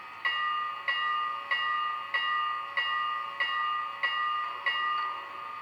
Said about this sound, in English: F1, here's the bell.